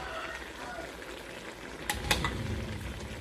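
Clams in their shells stir-fried in a pan with a little liquid, giving a steady sizzle and a few sharp clinks of shell and utensil near the end.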